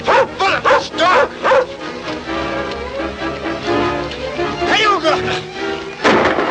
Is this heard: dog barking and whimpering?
yes